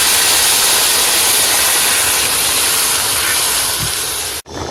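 Water is poured into a hot frying pan of oil where potatoes were just fried for a fish curry. It makes a loud, steady, close sizzling hiss that runs nearly the whole time, then cuts off abruptly.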